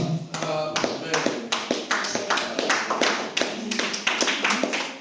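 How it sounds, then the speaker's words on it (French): A church congregation claps in rhythm, rapid hand claps ringing out in a reverberant hall, with voices underneath. "Acclamons pour cela."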